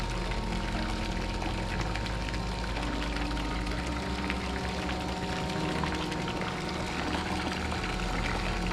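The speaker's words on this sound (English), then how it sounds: "Look at that steady flow of water." A steady stream of water pours and splashes continuously from an air lift pump, with a low bubbling churn beneath it, unbroken and moderately loud.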